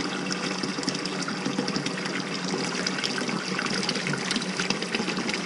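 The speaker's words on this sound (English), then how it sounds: "I usually just add cold water" Cold tap water runs steadily into a pot of freshly boiled eggs, a continuous hissing, splashing stream with no talking, lasting several seconds.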